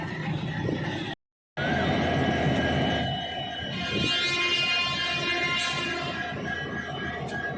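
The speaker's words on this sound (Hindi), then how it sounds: "WDP4 पैसेंजर ट्रेन भी आ गई है।" A WDP4 diesel-hauled passenger train on the Bhiwani–Rewari–Fazilka route rolls through a station in India. It makes a steady, loud rumble of wheels and engine with metallic ringing tones and a brief dropout early on.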